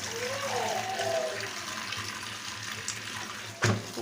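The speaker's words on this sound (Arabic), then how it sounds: "طبعا هغسلها كويس وهصفيها من الميه دي اهو" Tap water running steadily into a sink as peeled potatoes are rinsed in a home kitchen, a continuous close splashing flow with a brief louder knock near the end.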